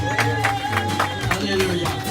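A congregation at a wedding blessing claps and cheers together, a steady crowd acclamation with rhythmic hand claps, sustained singing or voices, and a low musical tone running beneath throughout.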